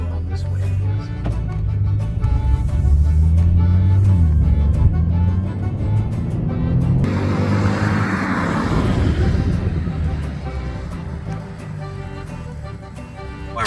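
A Porsche 911 Carrera engine starts and runs loud and steady, rumbling as the car pulls away, with wind or road noise swelling mid-way and no talking.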